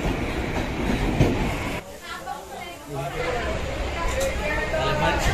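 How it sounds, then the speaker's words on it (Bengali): A train pulling into Lalgola station, its rumble and wheel clatter running continuously with people talking over it. "এই লালগোলা স্টেশনে ট্রেন ঢুকছে"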